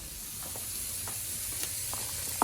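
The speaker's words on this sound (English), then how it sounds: "I'm going to put the hamburger, the ground round, in." Ground round hamburger meat frying in a hot pan for spaghetti sauce, a steady soft sizzle with a few faint crackles and pops, close by and with no talking.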